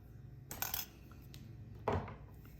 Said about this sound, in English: When they join here, 2 wires I will cut.